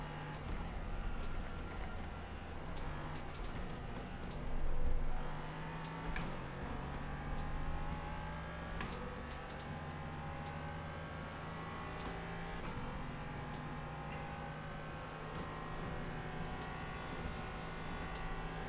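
LMP3 prototype race car in the iRacing sim, its engine droning steadily with shifting harmonic tones as it revs and changes gear, sustained and fairly loud throughout with no talk.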